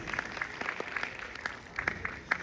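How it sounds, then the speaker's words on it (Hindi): Audience applause at a university convocation ceremony, honouring graduating daughters: scattered, distinct handclaps ring out irregularly over a quieter background of crowd clapping, moderately distant and fairly soft. "एक बार जोरदार तालियां सभी बेटियों के लिए"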